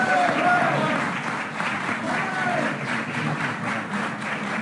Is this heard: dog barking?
no